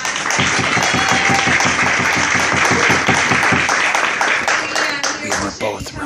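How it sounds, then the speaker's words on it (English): Audience applause at an awards event, sustained rhythmic clapping from a crowd, loud and steady, slowly thinning toward the end. "Let's give Tim a big round of applause"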